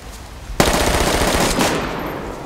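A loud burst of automatic gunfire from the video game DayZ, set on the Namalsk map, starts abruptly and rattles on for about a second before a second volley follows, then rings out.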